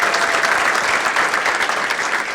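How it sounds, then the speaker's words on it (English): An audience at a women's achievement awards ceremony gives a steady round of applause, a dense wash of many hands clapping from across the room. "Big round of applause."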